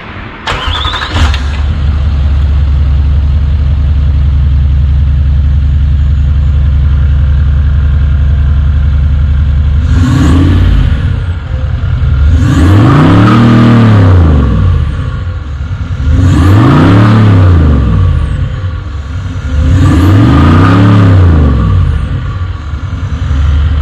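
Range Rover L322 with new twin exhaust tails and the back box removed, a deep loud idle close by, broken by four strong revs that swell and drop back, no voices.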